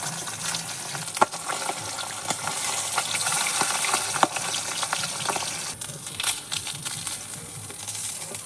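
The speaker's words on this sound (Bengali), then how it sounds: "মাছগুলো একটু চকুট করে হালকা ভেজে নেওয়া হচ্ছে" Steady sizzling of fish frying in hot mustard oil over a wood-fired clay stove, a continuous crackling hiss with occasional sharp pops and clicks, close by.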